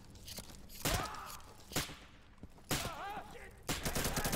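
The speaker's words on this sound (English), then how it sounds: "It took 4 shots to kill that guy. With the shotgun." Shotgun blasts in the video game Insurgency ring out as four sharp, loud reports spaced about a second apart, each followed by a brief echoing tail, with faint movement sounds between.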